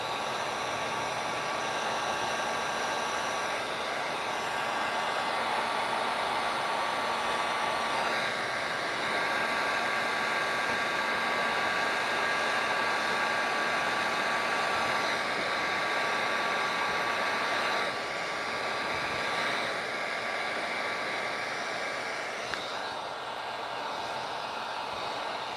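A heat gun blows a steady, close, even rush of hot air while warming vinyl wrap on a small promotional mini wrap, the airflow whooshing without a break for the whole stretch, no voices.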